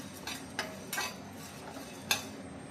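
Biryani spices dry-roasting in a pan get stirred, giving a few soft, scattered scraping strokes against a faint background hiss, quiet and close, with no talking.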